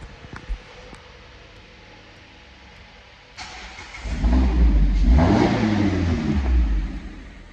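A nearby Ferrari sports car starts up, then revs loudly and pulls away, its engine note rising and falling for several seconds before fading slightly.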